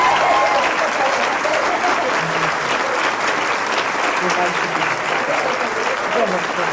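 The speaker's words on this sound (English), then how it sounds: "let's give a big round of applause to Dolores Huerta." A lecture audience applauds Dolores Huerta with a big, sustained round of clapping, loud and even, with some crowd voices mixed in beneath.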